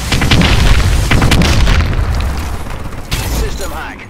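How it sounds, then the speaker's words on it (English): Friendly bombing run explosions in Call of Duty: Advanced Warfare hardpoint multiplayer, a series of loud heavy booms and rumbling blasts rolling one after another, with game voices faintly underneath. "friendly bombing run clearing the way"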